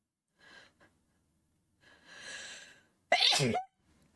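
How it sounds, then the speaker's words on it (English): After a few sharp inhales building up, a single loud, forceful pepper-induced sneeze bursts out close by, followed by quiet. "Like, I hate when the sneeze gets stuck."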